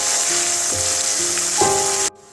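Sliced onions dropped into hot oil that was used to fry potatoes, giving a steady close sizzle with a brief flare, then cutting off abruptly.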